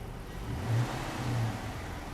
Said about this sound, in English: So whenever you, here, go in and pop the throttle like that and watch it.